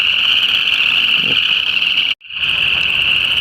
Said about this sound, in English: There's barely any peepers, but you can also hear the southern leopard frogs.